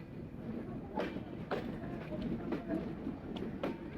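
Rhythmic clickety-clack of a passenger train's wheels on the rails as it rolls between Pabna and Kushtia, heard from inside the carriage, with repeated wheel-joint knocks over a steady low rumble.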